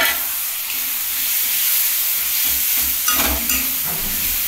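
Food frying in oil in a pan makes a loud, continuous hissing sizzle, up close, with a few soft stirring knocks and bubbling surges partway through.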